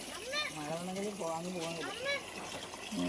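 Water runs and splashes steadily into a vessel for washing dishes, close by, while people talk over it.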